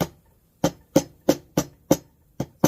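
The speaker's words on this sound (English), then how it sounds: "I take my little hammer" A small hammer drives nails into a wooden swing bird feeder with eight sharp, evenly spaced taps, loud and close, each ringing off quickly.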